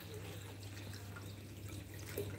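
Mushrooms being washed in water, with soft sloshing and scattered drips over a steady low hum, faint and close.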